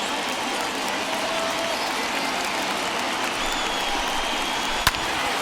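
Crowd of tens of thousands cheering in the baseball video game MLB The Show 21, Rangers at Blue Jays, a steady wash of stadium roar and applause with one sharp crack near the end.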